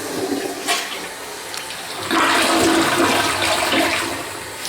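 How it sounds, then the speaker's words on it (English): A newly installed dual-stage toilet flushes with a loud rushing surge of water that swells after a brief lead-in and holds steady to the end, close up with no talk. "it's a dual stage flush. So if you can flush it just a little, or you can flush it a lot"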